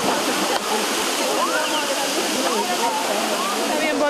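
Mountain water pours down steadily at Turicentro Los Chorros, a loud, continuous rushing and splashing like a small waterfall, filling the whole clip close by.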